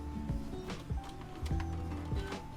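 A Brother T300 inkjet printer runs a black-ink test print, whirring and clicking in short mechanical bursts with a steady motor hum, close by and alone.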